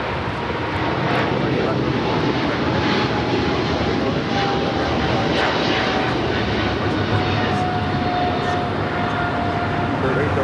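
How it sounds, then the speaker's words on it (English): A British Airways Boeing 777-300ER takes off at LAX, and its jet engines make a loud, continuous broadband roar that holds steady throughout, with a faint high tone sliding gently downward. "This is British Airways 282 taking off to London Heathrow on the 777-300ER."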